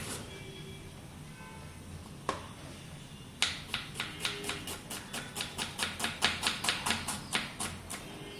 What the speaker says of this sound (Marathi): मी आज तुम्हाला भरभर कांदा कसा कापायचा ते दाखवते